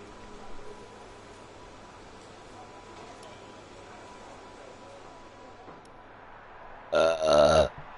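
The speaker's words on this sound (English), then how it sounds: "There'll always be a good burp or two, that's for sure." A single loud, close burp near the end, following several seconds of quiet low background hiss.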